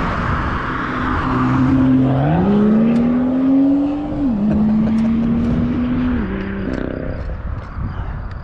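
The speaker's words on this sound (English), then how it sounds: "he's also doing some speed running with a real car" A real car speeds past during a speed run, its engine note loud and close as it climbs, drops at gear changes and climbs again over several seconds, with no talking.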